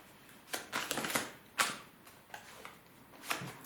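Tarot cards being shuffled and drawn for a reading, heard as a series of short, sharp flicks and slaps, some close together and others spaced out, fairly near and moderately loud with no talking.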